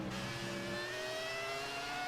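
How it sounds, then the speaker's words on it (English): A Ferrari F2004 Formula 1 car engine, called a V8, whines in a racing video game. Its high, sustained note climbs steadily in pitch as the car accelerates, with no voices over it. "Beautiful sound from the V8"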